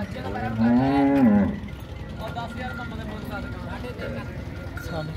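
A dairy cow gives one long, deep moo up close in Chichawatni, Pakistan, followed by a quieter stretch of farmyard background with faint voices talking.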